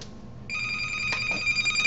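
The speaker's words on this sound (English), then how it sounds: "And that's the phone." A home telephone rings with a bright electronic trill that begins about half a second in and repeats in quick pulses, fairly close and moderately loud, with faint room noise underneath and no talking.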